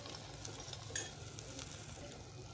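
Vegetables for kardai chi bhaji fry softly in a pan, a quiet steady sizzle broken by light scraping strokes as they are stirred.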